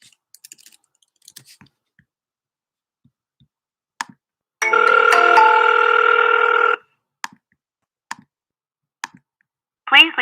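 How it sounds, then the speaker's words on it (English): An outgoing phone call placed from a computer calling platform rings once in a single steady tone lasting about two seconds, surrounded by scattered sharp mouse and keyboard clicks, with a short burst of voice at the end. "I can just call right off my computer, so you guys can hear it"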